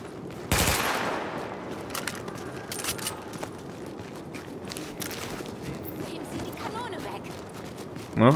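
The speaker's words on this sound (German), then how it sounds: "Na, einmal in die Luft geschossen" Gunfire in the video game The Division, fired into the air: one loud sharp shot near the start, followed by fainter scattered pops and clicks over a quiet ambient background.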